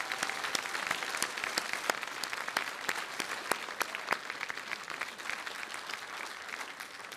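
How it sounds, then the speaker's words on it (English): An audience at the 2025 British Skydiving AGM and awards applauds, with steady crowd clapping marked by sharp individual claps standing out, continuing evenly throughout with no speech. "So can we give them a round of applause as well"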